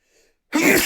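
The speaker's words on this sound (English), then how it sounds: "Sorry, I'm going to sneeze." A single close, loud sneeze bursting out after a brief faint intake of breath.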